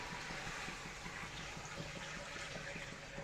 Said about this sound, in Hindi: मैं इसके अंदर पानी ऐड कर रही हूँ।